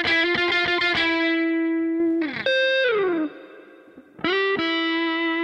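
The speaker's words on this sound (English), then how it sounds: "It turned on reverb." A distorted electric guitar track plays loud sustained chords and a sliding bend, with reverb switched on partway so the notes ring and decay into a lingering tail before the playing resumes.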